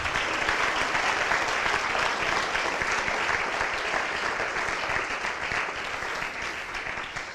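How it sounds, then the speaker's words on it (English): Sustained applause from an audience at an athletic hall of fame induction ceremony, honoring teams: dense, even clapping that holds strong throughout and thins slightly toward the end. "One final round of applause for those teams,"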